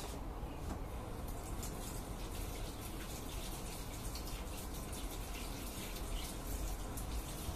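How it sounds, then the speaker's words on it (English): A cucumber is rinsed under a running tap while juice is prepared in a basement. The water gushes steadily and close by for the whole stretch, with nothing else heard. "Cucumber, rinse it."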